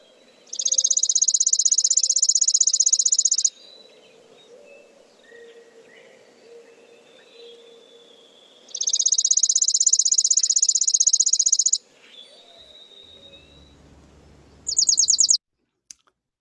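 Chipping sparrow singing a dry, rapid trill held on one pitch, two clear trills of about three seconds each separated by a quiet gap, then a brief faint burst, with soft background calls.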